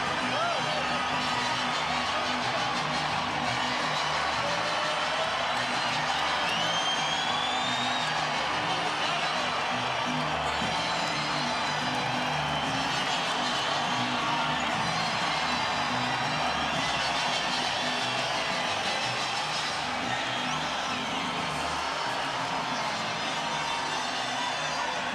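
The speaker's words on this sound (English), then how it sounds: "The crowd erupts" A boxing arena crowd keeps up a steady roar with whoops as champion Erik Morales enters for his fight with Manny Pacquiao, and a commentator speaks over the noise.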